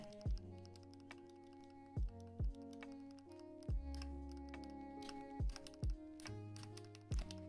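Keystrokes on a Keychron Q2 mechanical keyboard with GMK keycaps land as sharp, close clacks at an irregular, unhurried pace, about eight distinct presses separated by short pauses, with no talking.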